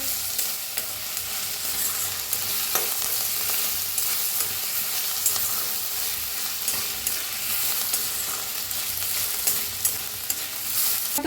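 Onion and dal roast in a pan, a steady close sizzle with repeated scraping strokes of stirring throughout.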